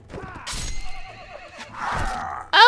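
In Mount & Blade: Warband, a horse neighs in a loud, close, high whinny that bursts out at the end, after brief clattering game sounds from a battle.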